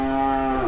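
A cow moos once, a loud, close, sustained low call with a clear harmonic tone at a rural home where cattle are being fed grass, with no talk over it.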